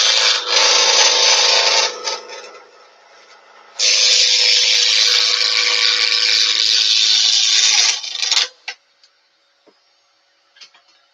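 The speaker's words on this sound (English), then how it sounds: "Let's use the spindle roughing" Spindle roughing gouge cutting on a wood lathe while turning a petaled flower: two long, loud bursts of steady rasping cut, separated by a brief quieter pause, then scattered light taps as it stops.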